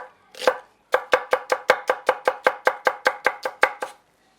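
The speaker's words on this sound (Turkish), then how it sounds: "Şimdi soğanları şöyle küçük küçük doğruyoruz." A knife chops red and yellow onions finely on a board, one opening stroke and then a quick even run of about fifteen crisp, close, loud chops.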